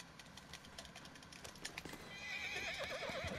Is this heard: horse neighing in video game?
yes